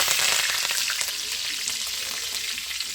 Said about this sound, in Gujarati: તો મિત્રો આપણે થોડુંક નાખશું રાઈ. તો મિત્રો રાઈ તો ચડી જાય.